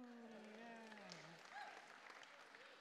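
An audience claps at a magic competition act, a modest spread of applause under a voice speaking over it.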